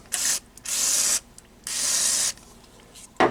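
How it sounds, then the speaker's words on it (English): Aerosol contact cleaner sprayed onto the bottom controls of a McIntosh C28 preamp, three sustained hissing bursts with short pauses between, close and fairly loud, ending in a brief clunk. "I'll just give them a good spray."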